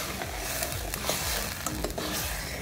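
Ginger paste sautéing in a pan, with a soft, even sizzle and a few light stirring scrapes, close but faint and steady over a short stretch.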